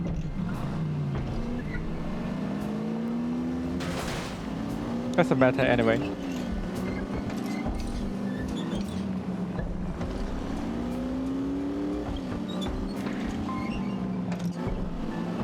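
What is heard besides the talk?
car driving in The Saboteur video game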